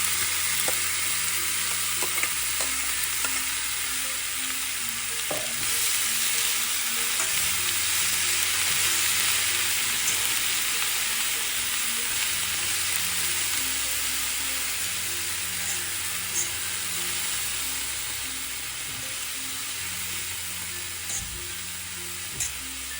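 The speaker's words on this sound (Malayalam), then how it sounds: "നമുക്ക് ഉടനെ തന്നെ നമ്മുടെ അരിഞ്ഞ് വെച്ചിരിക്കുന്ന ആപ്പിളും കൂടി ഇട്ട് കൊടുക്കാം." Chopped Granny Smith apple frying in hot oil for a pickle, giving a steady, loud sizzle and hiss throughout with occasional stirring clinks and scrapes, and no talking.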